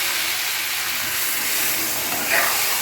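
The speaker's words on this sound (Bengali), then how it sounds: "এবার আমি এটাকে জল দিয়ে দেবো" Water poured into a hot pan of fried chicken curry masala sets off a loud, continuous steam hiss close by, with a brief sharper burst near the end.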